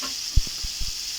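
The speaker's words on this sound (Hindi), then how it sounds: "मैंने उसको तड़का लगाया।" Cumin and black pepper tempering sizzling in hot oil for kadhi, a steady close crackle with a few soft stirring knocks.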